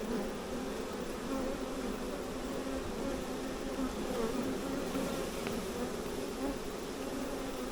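A honey bee swarm produces a dense, continuous buzzing drone, close and loud, steady for the full stretch with no pauses.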